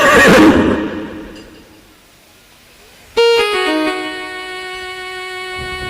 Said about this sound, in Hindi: चल पड़े रथ के घोड़े।